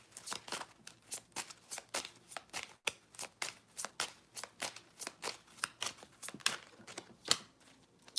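Oracle cards are shuffled by hand in quick, crisp riffles and slaps, a rhythmic series of close, light papery bursts at roughly even intervals.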